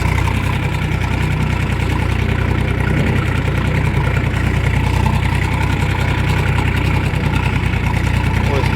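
A Kentavr 244SX mini tractor engine chugs steadily at low revs while driving off-road, a continuous rumbling drone with faint rattles, close by and fairly loud.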